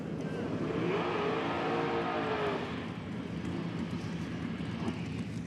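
A drag racing motorcycle at a nitro drag strip roars loudly as it accelerates away, the engine note climbing then fading into a continuous distant rumble with crowd and track ambience.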